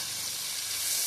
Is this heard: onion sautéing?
yes